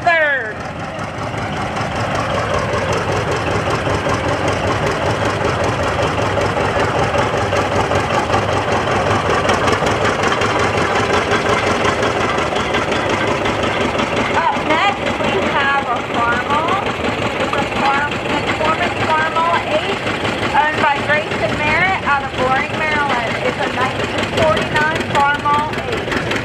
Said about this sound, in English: Up next, we have coming up a John Deere Diesel 80.